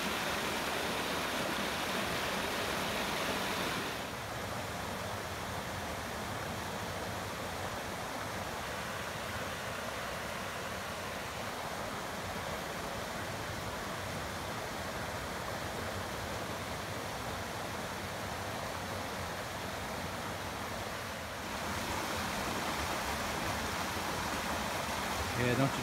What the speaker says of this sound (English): All the rushing water. This is just one of the streams